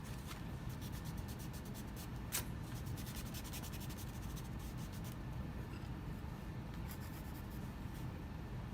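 Pencil drawing on paper being erased with quick, steady rubbing strokes that scratch continuously near and close up, a few sharper flicks standing out, no voices.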